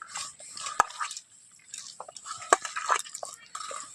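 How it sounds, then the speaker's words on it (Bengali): Mashed figs are squeezed by hand to press out water, giving soft wet squelches and a few sharp drip-like clicks up close, with short quiet gaps between. "এই যে দেখুন জল বের হচ্ছে।"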